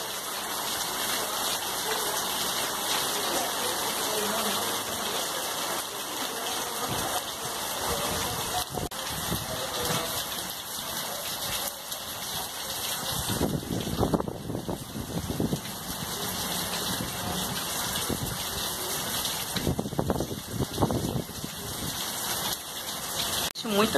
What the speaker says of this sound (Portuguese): Muita chuva, muito trovão, muito relâmpago.